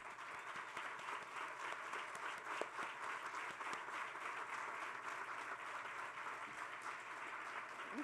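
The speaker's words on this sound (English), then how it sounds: "If you could stand, we'd like to give you a round of applause" An audience applauds the board of directors at a kids' meals groundbreaking ceremony, a sustained round of many hands clapping at moderate distance, steady and even throughout.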